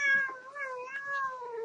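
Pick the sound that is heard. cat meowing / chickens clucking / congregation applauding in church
cat meowing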